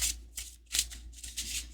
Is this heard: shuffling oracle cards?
yes